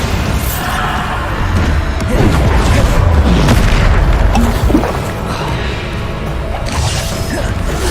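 The Bombarda blasting spell goes off in Hogwarts Legacy combat, heavy booming explosions with crashing impacts that keep up densely and loudly throughout, swelling to a peak partway through.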